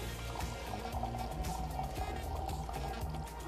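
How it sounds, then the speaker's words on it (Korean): Lancelot 12 year blended whisky pours from a corked bottle into a glass, a soft continuous glugging trickle heard close with light background noise. "일단 따라 볼게요."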